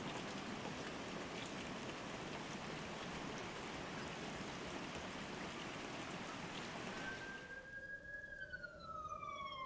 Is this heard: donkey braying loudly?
no